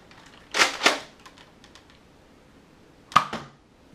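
Nerf Elite SurgeFire toy blaster firing foam darts: two quick sharp pops close together, a pause, then a third pop, loud and near with no talk.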